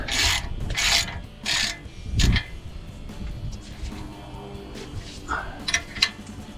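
Ratchet with a 22 mm socket tightening a drag link on a Jeep Wrangler JK, giving several short bursts of rapid clicking and scraping, close and fairly loud, with quieter metallic handling between strokes.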